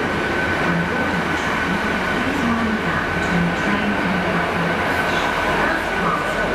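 A train at Cardiff Central station rumbles past steadily with a low drone, faint wheel squeal and clatter, while people talk quietly nearby.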